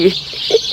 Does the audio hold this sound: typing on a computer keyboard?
no